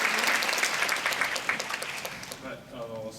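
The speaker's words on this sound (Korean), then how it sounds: "여러분 박수 한번 부탁드리겠습니다." An audience at a film festival Q&A claps in a dense, sustained round of applause that fills the room and tapers off near the end.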